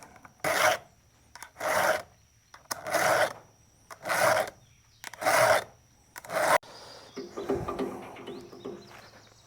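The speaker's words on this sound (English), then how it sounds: "this is what these little cordless saws are perfect for" A small cordless saw cuts through tree limbs in six regular, rasping strokes of about a second each, close and fairly loud, with short pauses between them, followed by a softer, rougher stretch of crackling and rustling.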